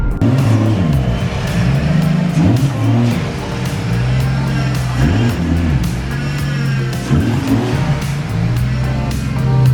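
Toyota Supra MK4 fitted with a T56 six-speed manual rolls in under load, its engine note climbing and dropping through several shifts in a loud, steady drone close to the microphone.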